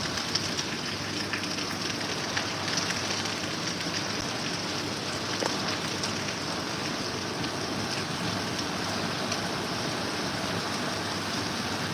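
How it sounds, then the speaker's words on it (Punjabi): A heavy downpour in Sangrur district, Punjab, keeps up a constant broadband roar of rain with a slight wind-like wash. It stays loud and even throughout, with no one talking. "ਪੂਰਾ ਤੇਜ਼ بارش ਹੋ ਰਹੀ ਹੈ"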